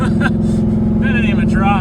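A Toyota Prius fitted with a 6.0L engine and a shift upgrade revs hard during a burnout attempt, a loud, steady, rumbling engine drone with people talking over it.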